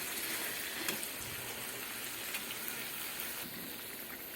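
Tilapia fish patori with coconut frying in a pan, a soft continuous sizzle like light rain, fairly quiet and steady, with a few faint ticks and pops.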